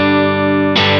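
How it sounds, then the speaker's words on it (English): A Fender Telecaster played through a Strymon Iridium gives a clean, sustained electric guitar chord with rich ringing harmonics, then a new chord is struck near the end. "I'm playing through a Fender Telecaster into the Strymon Iridium."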